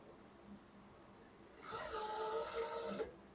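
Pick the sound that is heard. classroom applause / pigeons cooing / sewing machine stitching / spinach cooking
sewing machine stitching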